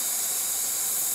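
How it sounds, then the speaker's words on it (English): Aerosol brush cleaner sprays out in a steady, loud, bright hiss as a pool forms for soaking a carving brush, one continuous burst with no talking. "I shake it up, spray me out a nice big pool of this stuff"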